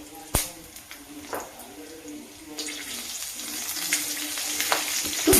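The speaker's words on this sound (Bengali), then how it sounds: "আরেকটু সর্ষের তেল দিয়ে এই কালো জিরে ফোড়ন দিলাম, আর 3টে কাঁচা লঙ্কা" Black cumin seeds and three green chillies crackle in hot mustard oil in a pan, faint at first with a few sharp pops, then swelling into a loud, steady close sizzle.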